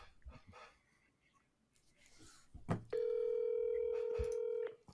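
Keypad tones sound as a phone number is dialed, first a few brief beeps and then one long steady tone near the end, with faint background voices and rustling before it.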